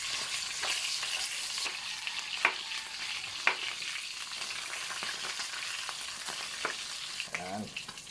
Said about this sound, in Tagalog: Parang isi-sear lang natin to para matanggal lang yung konting lansa niya sa ibabaw kasi ang mga isdang mulmul napakalansa eh